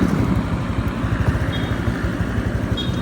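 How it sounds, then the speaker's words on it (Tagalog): A Honda Wave motorcycle with an open exhaust pipe, fitted with mag wheels, runs close by with a loud, steady, throbbing exhaust rumble and no talking. "I-testing ko din tong motor natin na nakamags na."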